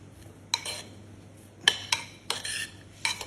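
A metal spoon clinks and scrapes against a dish in a kitchen, giving about six sharp, close taps in an irregular rhythm over a quiet background, with no talking.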